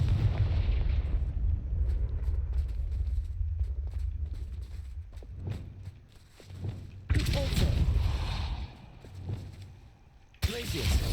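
Confringo fire blast spell in the Hogwarts Legacy video game, a heavy booming explosion burst with rumbling low-end and crackling tails, followed by further sharp blasts, loud and upfront. A voice calls out over the action.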